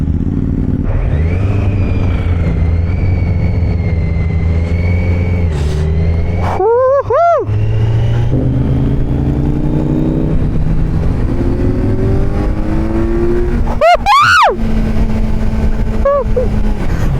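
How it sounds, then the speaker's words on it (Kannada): A Kawasaki Z900 naked sports motorbike is ridden on the road, its engine droning steadily and then revving hard in two sharp rising bursts, loud and close, with rushing wind noise underneath. "ನಾನು ಫಸ್ಟ್ ಟೈಮ್ ಕವಾಸಾಕಿ ಒಂದು ನೇಕೆಡ್ ಸ್ಪೋರ್ಟ್ಸ್ ಬೈಕ್ ಓಡಿಸ್ತಾ ಇರೋದು."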